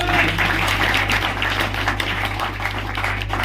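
An audience at a basic training event claps in congratulation for a new vehicle purchase, a dense, steady patter of many hands close by, continuing through the whole stretch with a low hum beneath.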